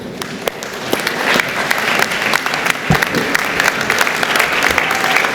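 A graduating class applauds their family and friends at a graduation ceremony, a dense, steady wash of clapping from a large crowd that continues throughout.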